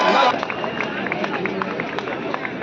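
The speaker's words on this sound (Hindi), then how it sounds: "जोरदार तालियों से" Applause from an audience at a college event in India: dense, steady clapping that fills the whole stretch with a crowd murmur underneath.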